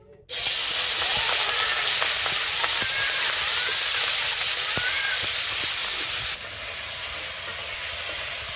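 Fish sizzling in hot oil in a home kitchen, a loud steady hiss and spatter that starts abruptly and continues throughout, easing slightly near the end, with faint crackles and no talk.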